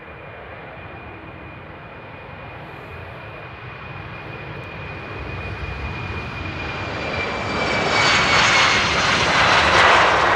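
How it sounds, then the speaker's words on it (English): An airplane takes off at Amsterdam Airport, its engine roar building steadily from a distant rumble to a loud, close, broadband roar with a rising whine, heard alone. "Oh, and without further ado, the next takeoff."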